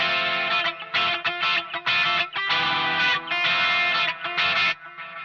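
A Harley Benton Fusion Tele electric guitar on the bridge pickup through a boost effect, loud driven chords and riffs played in bursts with short gaps, close and alone.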